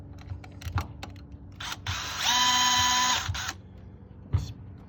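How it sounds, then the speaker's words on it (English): A power drill removes deep bolts from a 2018 Nissan Armada 5.6-liter engine, whirring in a sustained high-pitched burst of about a second, close by, amid scattered clicks and handling noise. "These are pretty deep bolts, so that's why I'm using the drill"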